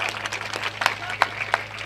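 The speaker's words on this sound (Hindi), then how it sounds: "आप ताली सब क्यों नहीं बजाओ?" An audience claps at a Shrimad Bhagavat Katha religious discourse, with scattered, fairly rhythmic hand claps standing out against a low steady hum.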